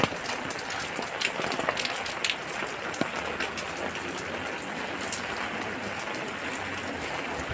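Heavy rain pours steadily on a paved road, a dense, continuous hiss with scattered sharper drop impacts, loud and unbroken throughout.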